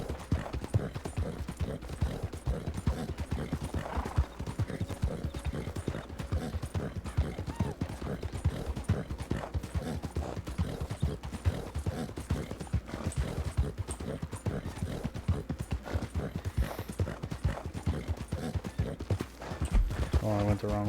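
A horse gallops in Red Dead Redemption 2 (WildRP roleplay) with rapid, steady hoofbeats throughout. A brief whinny comes partway through, and people talk over the hooves.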